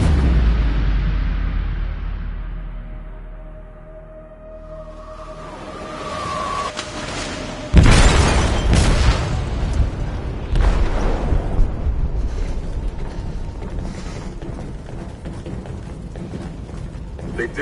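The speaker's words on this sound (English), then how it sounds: "They detonated an explosive in the hold. The ship is sinking, sir." An explosive detonates in a ship's hold in a video game: a sudden heavy boom breaks out after a quieter stretch, followed by rumbling blasts and chaotic noise, with voices speaking.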